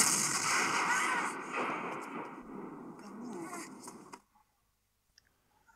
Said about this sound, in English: Here's a cannon noise for the T-1000.